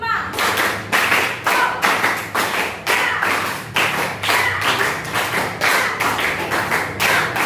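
A class of students claps hands in rhythmic bursts, repeated clusters of sharp claps close by, with voices counting along between rounds in a classroom.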